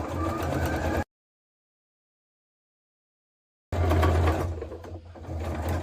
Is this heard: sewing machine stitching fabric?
yes